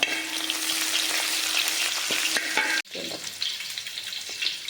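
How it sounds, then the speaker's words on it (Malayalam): Garlic, ginger, curry leaves and green chili fry in a hot oiled pan, giving a loud, steady sizzle with stirring scrapes before a brief dip, then the sizzle carries on alone. "നമ്മൾ വെളുത്തുള്ളി ഇട്ട് അതൊന്ന് ചെറുതായിട്ട് കളർ മാറട്ടെ കളർ മാറി നമ്മൾ ഇഞ്ചി ഇടുക"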